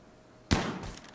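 A single sharp gunshot in the Rimworld colony-management game, a sudden close crack that decays quickly with a short tail.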